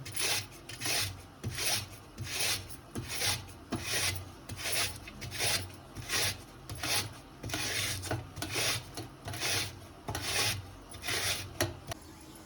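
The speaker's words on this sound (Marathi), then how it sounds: "आता मी किसून घेते असे लांब लांब किसून घ्यायचे" Rhythmic rasping strokes of peeled potatoes being grated into long strands, about two scrapes per second, close up and steady with no talking.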